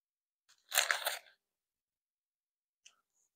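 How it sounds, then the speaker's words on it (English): Crunchy food bitten and chewed during a Wendy's fast-food eating relay challenge, one close burst of crunching lasting about half a second, then quiet with a faint tick near the end. "It's a lot of chewing."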